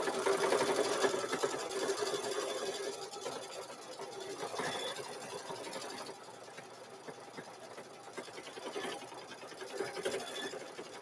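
A sewing machine stitches part of a cow-themed quilt in one continuous, even hum that stays close and moderately loud throughout.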